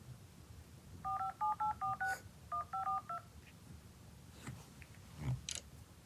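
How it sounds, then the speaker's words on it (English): Touch-tone keypad beeps as a phone number is dialed on speakerphone, two quick bursts of evenly spaced tones with a short pause between, followed by faint background rustling. "Put the phone on speakerphone so that you can hear that the number has been dialed"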